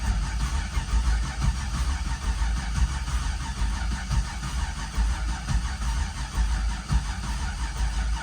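An LS V8 engine, previously blown up, cranks over with its exhaust unhooked and no coolant, giving a steady, loud low rumble of churning and turning throughout with no talk.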